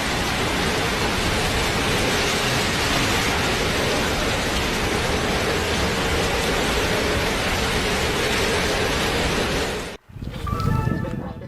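Steady, dense roar of heavy thunderstorm rain, like a downpour in a storm, continuing without pause before cutting off abruptly near the end.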